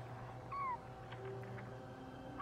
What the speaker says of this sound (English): Why do I keep hearing kitties?